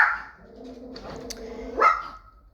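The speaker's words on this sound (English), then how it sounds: "Oh, those are my dogs." Dogs bark in a home, a drawn-out, whining bark that rises at the end, fairly close and loud, with no talking over it.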